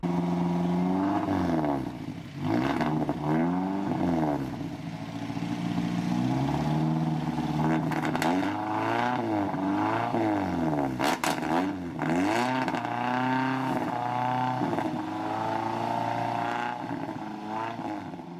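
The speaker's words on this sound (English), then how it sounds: "we do get to hear the Alero with the Borla exhaust system." An Oldsmobile Alero engine revs repeatedly through a throaty, rumbling Borla exhaust, pitch rising and falling in waves, loud and steady throughout.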